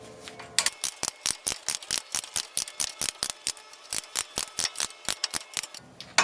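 Rapid, even clicking of a socket wrench ratchet tightening brake bolts on a Lincoln Town Car, about two dozen crisp close clicks in a steady rhythm with no talk.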